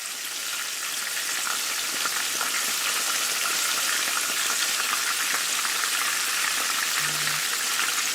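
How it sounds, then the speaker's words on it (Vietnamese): Steady, dense crackling sizzle of eggplant frying in hot oil over medium heat, continuous and close throughout with no voices. "Mình cho cà vào chiên ở mức lửa vừa."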